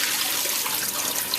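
Rinse water pouring steadily out of a pot of cut-up cassava, a continuous close splashing rush of liquid with no voices over it.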